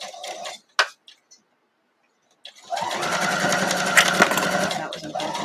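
A sewing machine stitches a quarter-inch seam on a quilt block, running steadily and loud for about three seconds after a short pause and a few soft handling sounds.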